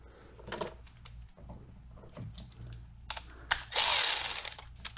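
Ratchet with a 6mm socket working on a clamp of a BMW X5 E70 with the N55 engine: irregular clicks and short mechanical rattles up close, ending in a louder burst of ratcheting.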